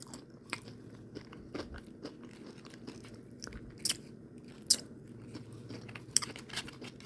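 Crunchy microwave nachos topped with sour cream being chewed up close, with loud irregular crunches and bites over a quiet room, no talking.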